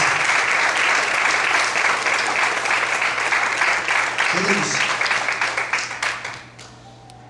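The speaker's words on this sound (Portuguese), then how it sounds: "Mais fortes palmas." Congregation applause in a church service, dense sustained clapping from many people that fades out near the end, with a pastor's voice speaking briefly over it.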